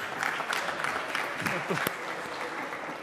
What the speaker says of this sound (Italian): applauso alla domanda